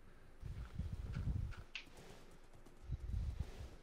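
Horse hooves clip-clopping in a video game, two short bursts of rhythmic clopping steps heard up close and fairly faint, with a quiet pause between them.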